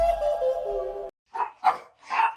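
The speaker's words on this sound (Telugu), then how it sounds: "కుక్క అరుస్తుంది" A sustained whining tone gives way to three sharp, close dog barks in quick succession, loud and clear with no talking.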